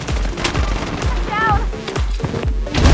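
An MP5 fires in the online shooter BloodStrike: rapid, closely spaced shots in repeated short bursts over a voice talking, with a brief electronic chirp midway.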